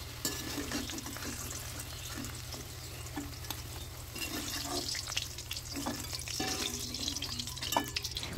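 Potatoes frying in oil in a home kitchen pan, a steady close crackle and sizzle running throughout with occasional stirring clinks, no voices.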